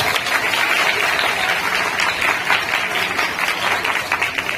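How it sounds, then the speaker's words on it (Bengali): Students at a school environmental rally clap for their teachers, a dense, sustained round of applause from a large group that stays even throughout. "তোমরা একটা হাততালি দাও"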